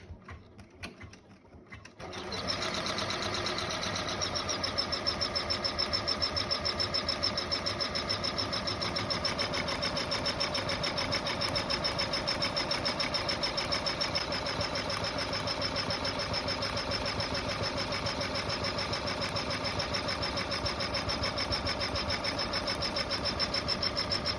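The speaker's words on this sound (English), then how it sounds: "Now we'll stitch step 4 of the stitch map" An embroidery machine starts after a brief pause and then stitches a credit card holder with a steady, fast mechanical chatter that stays close and constant to the end.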